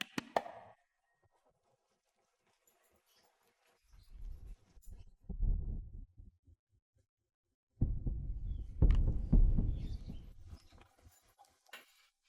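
A nervous pounding heartbeat sound effect arrives in irregular bursts of deep, thumping pulses, separated by near silence. The later beats grow louder and denser, with no voices.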